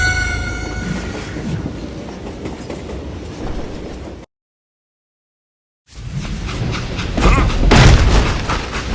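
A train rumbles and clatters in the Western shooter Call of Juarez Gunslinger, a loud heavy rolling roar broken by a short dead silence before resuming with booming impacts.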